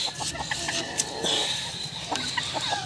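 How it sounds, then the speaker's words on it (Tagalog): Silkie chickens clucking nearby in short soft bursts and murmurs, with scattered sharper calls rising over a low farmyard background and a voice speaking faintly in between. "Tsaka update na rin dito sa ating silky chickens."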